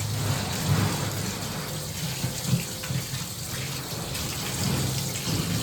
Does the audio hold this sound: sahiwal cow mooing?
no